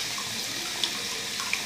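Water runs steadily from a sink tap in a bathroom during a morning wash, a continuous close splashing hiss with a couple of small drips.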